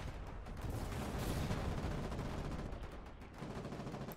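Gunfire and tank cannon shots in a war video game, a faint, continuous crackle of overlapping rifle and machine-gun fire with dull booms mixed in, distant and without speech.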